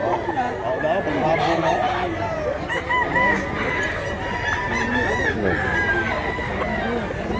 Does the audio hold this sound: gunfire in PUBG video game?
no